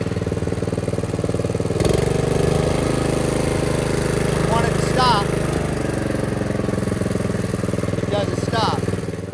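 A DR Power brush mower engine runs loud and close, starting abruptly a couple of seconds in and then holding a steady, rough drone with slight variations in pitch.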